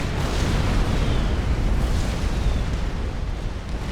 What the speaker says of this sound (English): Let's just keep bombing his units.